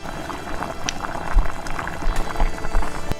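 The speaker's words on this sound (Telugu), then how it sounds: "ఆయిల్ వేసుకోవాలి." Cooking oil pours into a kadai pan while brinjal masala curry is being made: a close, steady liquid trickle with small gurgles, heard alone.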